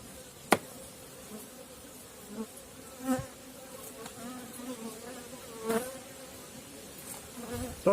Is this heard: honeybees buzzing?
yes